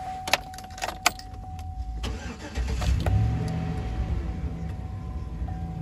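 Keys jingle briefly before a Chevrolet Silverado LT 4WD pickup cranks and starts, then settles into a steady, close idle.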